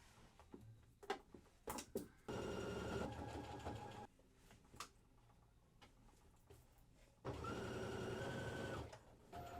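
A sewing machine top stitching around the neck of a dropped shoulder hoodie, running in two sustained whirring bursts of about two seconds each, separated by softer ticks, clicks and fabric handling, heard close up.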